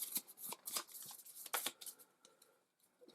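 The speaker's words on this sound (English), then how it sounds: "So we'll give that a good old shuffle." A deck of Everdell board game cards is shuffled close up, with rapid riffling bursts and soft slaps of the cards settling together. The sound tapers off into quiet at the end.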